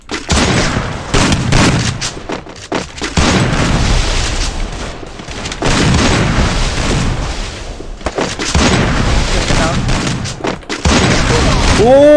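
Rapid gunfire bursts and booms from Garena Free Fire play in a 2v2 match, loud and frequent throughout, with a brief pause midway, heard under excited voices.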